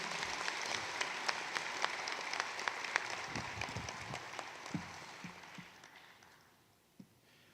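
An audience at an annual general meeting gives a round of applause for Professor Adipala, a moderately loud wash of clapping with distinct claps on top that gradually fades out.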